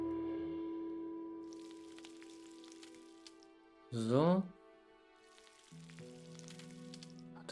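Meat fries in a pan in the video game Gothic 2, making a soft, continuous sizzle that fades in and out beneath game music. Someone speaks briefly over it.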